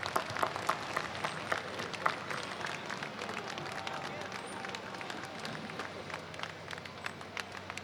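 A street crowd at an Armed Forces Day parade in Torrance claps continuously for an Army Corps of Engineers command vehicle, a dense, steady patter of many hands with faint murmuring voices mixed in, moderately distant.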